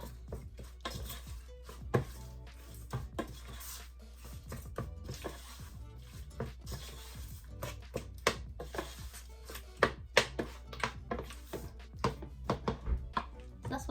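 A spoon stirs chicken fried rice in an air fryer basket, giving quiet, irregular clicks, knocks and scrapes that come in quick clusters, with no one speaking.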